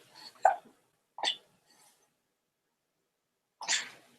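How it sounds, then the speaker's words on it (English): Several short involuntary hiccups from a person, three sharp isolated bursts spaced apart with silence between, close and fairly loud, no talk. "How did you get those silly hiccups?"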